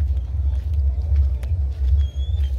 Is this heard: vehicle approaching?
yes